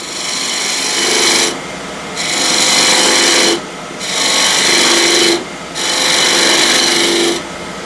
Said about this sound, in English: In this case I want to cut the tenon.